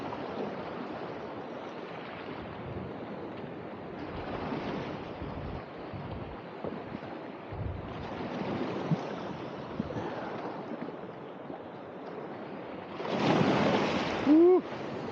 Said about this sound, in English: The waves were crazy on the way over.